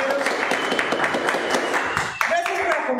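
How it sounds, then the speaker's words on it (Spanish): Steady applause at the close of a fitness class broadcast, continuous clapping close by for the whole stretch, with people talking over it. "Dame un aplauso."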